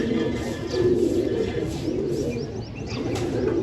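Pigeons coo steadily in a loft of large breeding pigeons, with soft overlapping calls, some chirps and a brief flutter of wings, close and continuous with no talking.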